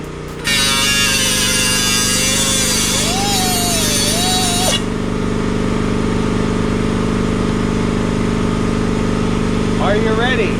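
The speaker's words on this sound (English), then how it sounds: "I know the air compressor's making a lot of noise." An air compressor runs loudly and steadily throughout, a constant mechanical drone in a workshop with a broad hiss over its first few seconds, while a voice speaks over it.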